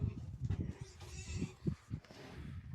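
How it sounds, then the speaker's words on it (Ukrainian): Hungarian Mangalica piglets on a farm grunt and squeal close by in short, uneven bursts, some sharper cries rising above a low rustle. "Отакі от поросята."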